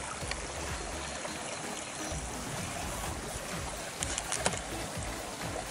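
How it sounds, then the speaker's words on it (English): A small stream flows beside a river island at Kangaroo Creek, a steady, close babbling rush of water with no talking. "Got a little bit of a stream going beside me there."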